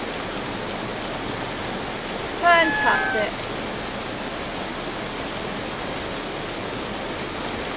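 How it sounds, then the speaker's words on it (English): Hail falls in the video game Vintage Story as a steady, dense hiss-like patter, with a brief spoken word over it. "Oh, and there's the hail."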